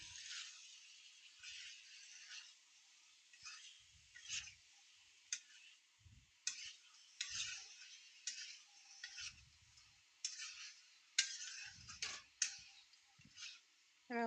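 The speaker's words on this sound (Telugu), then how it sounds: "బాగా మొత్తం కలిసేలాగా మొత్తం అంతా కలుపుకోవాలి" A utensil stirs chicken fry mixed with masala powder in a pan, giving irregular clicks, taps and short scrapes against the metal over a quiet, steady background hiss.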